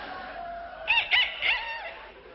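A person imitates a young rooster crowing, a few rising and falling vocal bursts that break up unevenly over a quiet background.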